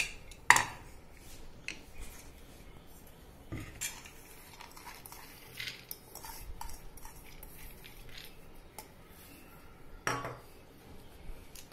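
Metal cutlery and pots clink and scrape softly in a home kitchen while whole masoor lentils are set to cook in a pressure cooker with a little salt, with a few sharper knocks spread through quiet handling and no talk.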